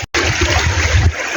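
River water on a rural farm property rushes and splashes in a steady, loud, broadband wash after a brief dropout at the start, close and continuous with no voices.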